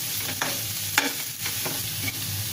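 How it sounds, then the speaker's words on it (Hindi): Masala sautéing in a pan for a stuffed green chilli kuttu pakora filling in an Indian vegetarian kitchen: a steady soft sizzle broken by several distinct scraping strokes of a stirring spoon, close and alone without voices. "ये मसाला हम दो मिनट तक इसको भूनेंगे"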